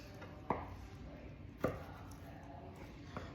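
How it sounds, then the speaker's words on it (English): A knife chops cow tongue into cubes on a board, with two sharp, distinct chops about a second apart and a fainter third near the end over quiet room noise. "So we're gonna cut this into cubes about this big here in the back, okay?"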